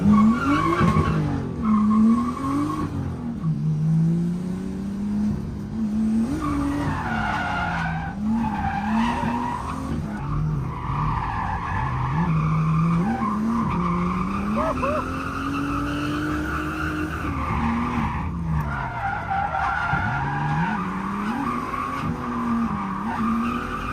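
A Nissan S13 with a KB25 engine of about 300 horsepower on a race track, tires skidding and squealing continuously over a straining engine whose pitch rises and falls through the laps, with people talking over it.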